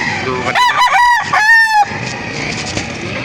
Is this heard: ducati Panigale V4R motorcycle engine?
no